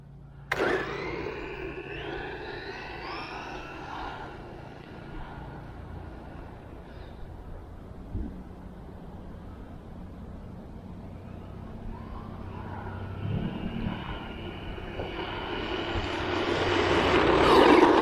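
A DEERC 210E brushless RC truck running fast on a 3S LiPo, its motor whine rising and falling as it passes, with a steady broadband rush and a louder, closer surge at the end.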